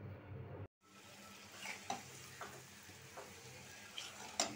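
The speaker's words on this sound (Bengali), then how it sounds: "পাবদা মাছ আর চিংড়ি মাছের জন্য মশলা কষাইতেছি।" Masala for pabda fish and prawns cooks down in a pan with a faint, steady sizzle. A spoon scrapes and taps now and then as it is stirred, and the sound is quiet and close.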